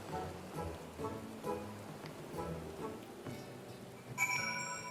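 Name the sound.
rain falling in Final Fantasy XIV video game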